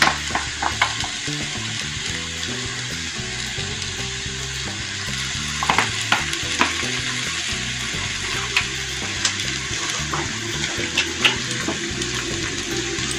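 Vegetables for veg chilli noodles stirred and fried in a hot pan, a steady loud sizzle with frequent scraping spatula strokes and clinks throughout, no voices.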